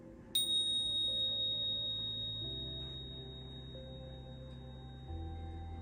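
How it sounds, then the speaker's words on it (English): A single bell struck to open a devotional service rings out clearly, then a long pure tone decays slowly over several seconds above a low steady background hum. "So I'm going to invite the bell."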